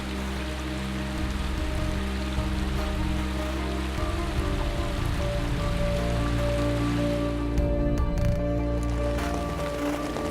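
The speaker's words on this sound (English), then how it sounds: "Fourth day of rain in a row" Steady rain falls on a forested hiking trail in the Pacific Northwest, a continuous dense patter and hiss with a low rumble underneath, unbroken throughout.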